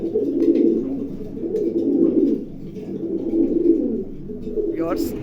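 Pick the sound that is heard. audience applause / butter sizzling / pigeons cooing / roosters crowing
pigeons cooing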